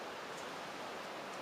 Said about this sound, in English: You can hear these high winds.